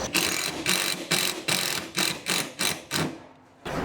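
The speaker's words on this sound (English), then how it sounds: "So I'm just going to screw one up here and one down the bottom for now." A power drill drives screws to fix a shed window frame in place, giving a close series of about eight rapid ratcheting bursts in steady rhythm, then a short pause before the motor starts again.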